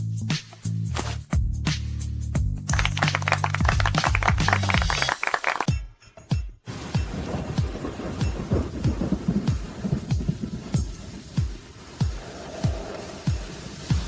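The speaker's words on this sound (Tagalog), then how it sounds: "Lalong lumalakas ang ulan." Heavy rain pours steadily while thunder rumbles and cracks loudly, with a brief burst of music at the start.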